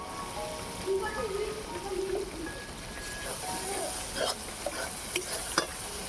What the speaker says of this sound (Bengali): ভালো করে এবার আমি কষিয়ে নেব ধনে পাতা কুচি টমেটো